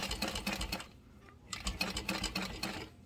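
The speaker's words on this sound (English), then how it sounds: "I'm going to sew about 1/8 of an inch away from the edge" Sewing machine stitching about an eighth of an inch from the fabric edge, a rapid close mechanical chatter in two runs separated by a brief pause.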